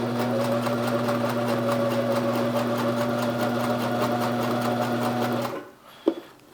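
A Sears Kenmore sewing machine stitching fabric with a steady, fast mechanical hum for several seconds, then stopping abruptly with a short clunk.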